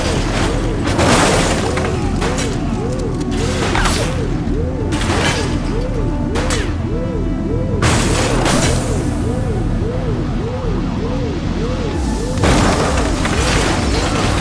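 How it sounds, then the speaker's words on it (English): Gunfire from a suspect in the police game The Precinct: sharp, loud bursts of shots at irregular intervals over a steadily wailing police siren. "He's shooting!"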